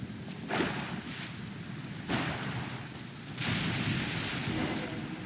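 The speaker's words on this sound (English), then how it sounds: "With rain this heavy, not only are the stars clouded, so too is my scryglass hazy." Heavy rain falling in a Genshin Impact game scene, a steady dense hiss that swells in a few louder surges, with no talk over it.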